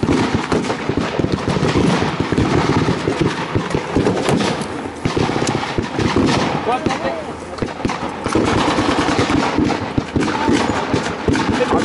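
Rapid gunfire crackles continuously at a WWII battle reenactment, loud and close, with shouting voices mixed in throughout.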